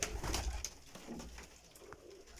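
Pigeons cooing close by in a loft of flying pigeons, soft low throaty coos repeating over faint rustling and scattered high chirps, quiet and without talk.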